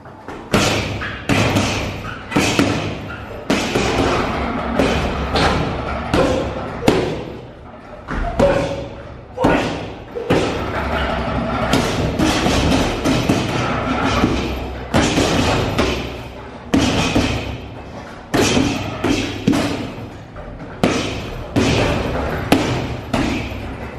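Punches landing on a heavy body boxing bag in a gym, dense bursts of sharp thuds and slaps in quick combinations separated by short pauses, loud and close, with a voice talking now and then.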